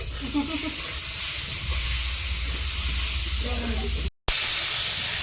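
Steady hiss and sizzle of river fish curry with mustard paste being sautéed in a Sundarban home kitchen, continuous frying noise with a short cut near the end and faint voice under it.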